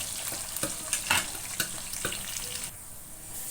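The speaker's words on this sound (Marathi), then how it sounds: "कांदा चांगला फ्राय करून घेऊया." Onions frying in oil for sambar, with a steady sizzle and a few sharp stirring scrapes and clatters against the pan.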